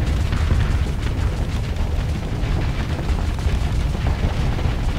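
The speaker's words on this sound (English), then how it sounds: "Missiles." Missiles explode in rapid succession during a Starsector space battle, a dense, continuous rumble of heavy booms and bursts that stays loud throughout with no pause.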